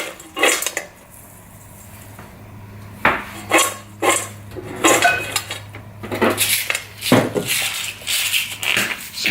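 Home-made popcorn tossed in a pot during seasoning, giving repeated metallic clatters and rattling scrapes in uneven bursts, close and fairly loud, with no talking.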